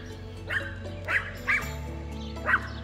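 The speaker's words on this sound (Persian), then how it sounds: "هر وقت میایم اینجا هاپوهاشون شروع میکنن به سر صدای خیلی زیاد" Dogs at a large villa in Istanbul bark in four loud, separate bursts about a second apart, sounding close by over a steady low hum.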